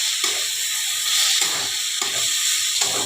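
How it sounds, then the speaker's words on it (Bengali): Gobindobhog rice frying in ghee with cardamom, cinnamon and cloves in a pan, a steady close sizzle with a few stirring scrapes. "চালটা একটু ভালো করে ভেজে নিতে হবে।"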